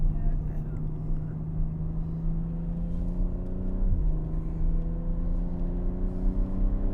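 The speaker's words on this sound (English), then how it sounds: "So again, accelerating very fast, turning in." A BMW Alpina XB7 SUV accelerating fast, a steady, strong engine drone climbing in pitch with a brief dip midway, heard from inside as the car turns in.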